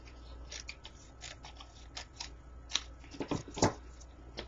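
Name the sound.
paper being trimmed with scissors for a paper daisy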